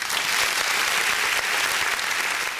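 An audience claps in a dense, steady round of applause that holds at an even level throughout, with no voices.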